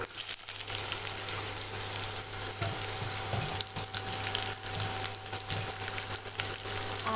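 Small diced potatoes frying in a pan, a dense, continuous sizzle holding steady and fairly loud throughout, with faint scraping in the background.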